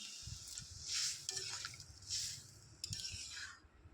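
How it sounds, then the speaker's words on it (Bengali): Water poured into a hot pan of prawns and elephant foot yam sets off hissing sizzle bursts, three distinct surges of bubbling spatter over faint stirring, quiet and close. "পরিমাণ মতো জল দিয়ে দিলাম"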